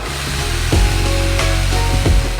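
Wood is smoothed off on the front end of a piece during an old stone home renovation, a close, loud power-tool whir broken by repeated rasping strokes with no voices.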